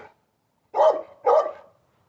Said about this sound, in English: Stop barking, man. Stop barking.